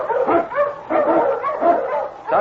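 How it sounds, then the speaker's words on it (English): King, the swift, strong Eskimo lead dog, barks and yips in a close, lively run of several quick barks with whimpering edges, repeating over a couple of seconds. "The Wonder Dog King, swiftest and strongest of Eskimo lead dogs"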